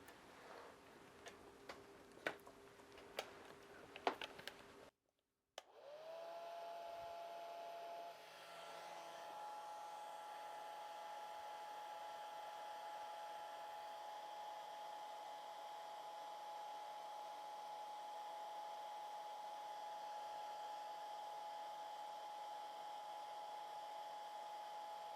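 A hair dryer blows steadily to dry a watercolor painting of a goldfinch, a constant whooshing drone that starts after a short gap and runs loud and unbroken to the end, with faint ticking clicks heard before it begins.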